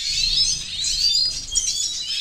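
Siskin chicks and adults in a breeding cage chirp continuously, close by, with high, thin overlapping tweets and trills.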